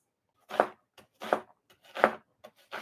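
A knife chops a sweet onion on a cutting board with three distinct firm strokes and a few lighter taps between them, close and crisp.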